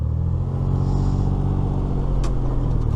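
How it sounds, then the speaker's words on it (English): A Gator utility vehicle on a farm field idles with a loud, steady low engine rumble close by, with a brief clank near the end. "we are going to sit on this gator, and we're going to ride right on the gator"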